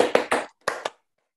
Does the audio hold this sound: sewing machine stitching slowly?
no